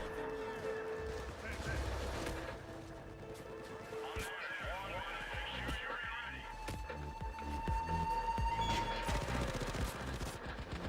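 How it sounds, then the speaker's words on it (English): A deployed turret in the video game Payday 2 lays down rapid automatic cover fire, a dense stream of shots mixed with chaotic in-game noise and tones, steady and loud throughout. "I got the turret providing cover fire"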